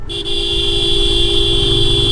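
A steady car horn blares continuously at a bend on a mountain road, loud and close, over low traffic rumble.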